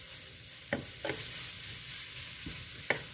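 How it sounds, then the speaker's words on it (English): Broccoli rabe sizzles steadily in a hot frying pan, a constant crackling hiss with a few sharp clinks of a utensil stirring, close and alone with no talk. "the broccoli rabe is still sizzling"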